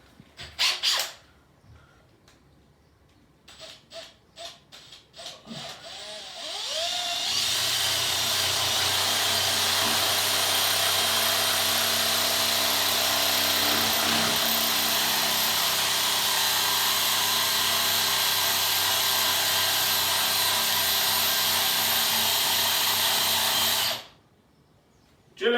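A power drill bores into a bathroom wall to take a wall plug during a refit, running loud and steady for about seventeen seconds after a few short starts and clatter, then stopping abruptly.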